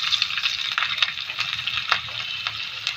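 Whole spices crackle and sizzle steadily in two spoons of hot oil as jeera rice gets started, a dense close-up frying hiss with small pops and no voices.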